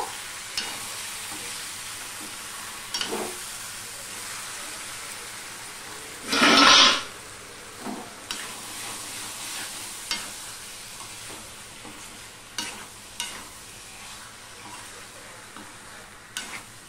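Spices sauté with sugar and Kashmiri chili powder for a vegetarian jackfruit dal, a quiet steady sizzle with scattered spoon taps and scrapes and one brief loud clatter partway through, no talking.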